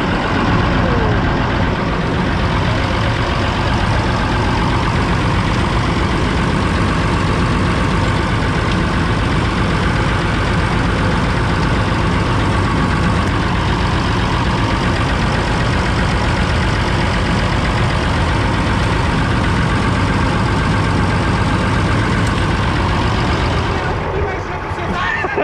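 A Bizon combine harvester engine runs steadily at idle after sitting through winter, a loud, even diesel rumble that holds without a break for nearly the whole time and cuts off near the end, with some voices faintly underneath.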